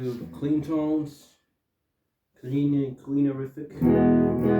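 Clean tones from an EKO electric guitar, played as two ringing, chord-like phrases split by a short silence, close and moderately loud.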